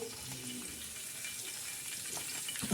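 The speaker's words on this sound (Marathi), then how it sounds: "आपण तव्यावर छान असं तेल टाकलेलं आहे त्याच्यावर आपण हा कढीपत्ता टाकणार आहोत" Curry leaves sizzle and crackle in hot oil on a tava griddle, a steady close frying hiss lasting throughout with a slight rise at the end.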